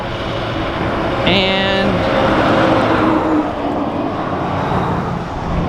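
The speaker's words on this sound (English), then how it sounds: "this big truck is fixing to drive over this bridge" Big truck driving over a bridge, a broad close roar of engine and tyres that swells in the middle and eases off, with a brief horn-like tone early on and someone talking.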